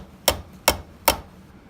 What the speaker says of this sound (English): I'm just gonna tap the top of the rivet with this hammer